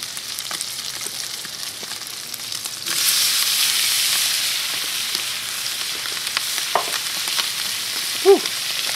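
Shrimp go into a hot pan with browning chorizo, the quiet crackle suddenly swelling into a loud, steady hiss and sizzle that carries on, with a few clicks and a short clatter near the end.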